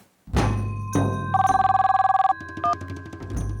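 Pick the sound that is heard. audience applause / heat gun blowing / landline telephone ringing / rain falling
landline telephone ringing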